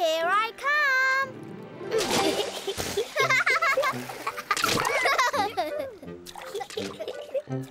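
Cartoon characters jump into a brand-new pool, making several bright, sudden splashes mixed with lively children's voices talking and singing around them.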